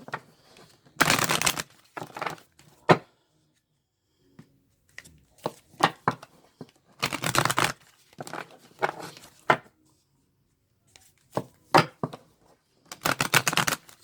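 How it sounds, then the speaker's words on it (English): A deck of tarot cards is shuffled close up in short riffling bursts with quiet gaps between them, a few soft taps and card slides in the pauses, no talking. "So let me shuffle these."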